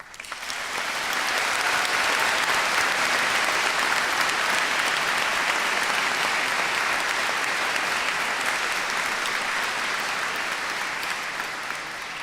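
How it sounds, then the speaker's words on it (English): A graduation ceremony audience applauding loudly and steadily, dense clapping that swells quickly and holds for over ten seconds in a large hall. "I think at this point you do all deserve another huge round of applause."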